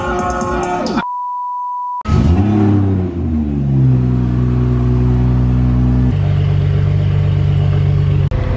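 A Stage 2 tuned BMW 340i with the B58 engine, high-pressure fuel pump and flex fuel kit, revs loudly and close by, rising through gears after a short electronic beep, the engine tone climbing and settling.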